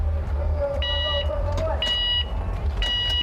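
Start gate beeps at a BMX race semi-final, three clear electronic tones evenly spaced about a second apart, ringing over a steady low crowd and commentary rumble.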